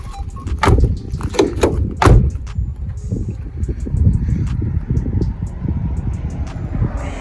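A Renault Scenic 3 car door closes gently with a couple of soft thuds early on, followed by outdoor wind and rustling handling noise.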